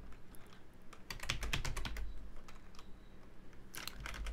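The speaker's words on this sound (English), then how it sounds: "for here, we're going to type in reference." Fingers typing on a computer keyboard, a quiet string of light clicks in bursts with short pauses, close and alone without speech.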